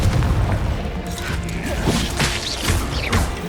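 Confringo fire spell exploding in Hogwarts Legacy combat, a loud booming blast with crackling debris and whooshes, among other clashing spell effects and no talk over it.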